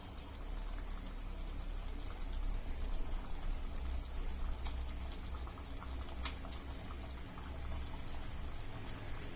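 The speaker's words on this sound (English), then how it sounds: "So I am putting in the fish." Continuous bubbling and sizzling of thick garlic fish curry gravy simmering in a pot as fish is added, close and steady, with a couple of faint clinks.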